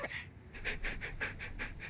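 Dog panting in quick, even rhythmic breaths, close and quiet, about eight pants in under two seconds.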